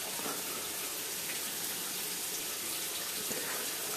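Water and loose aquarium gravel rush and trickle through a siphon tube, a soft, steady, hissing flow with faint clicking grit throughout, close and quiet.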